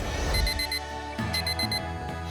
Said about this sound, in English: The alarm clock in your room does its best to keep you from missing your first day of school.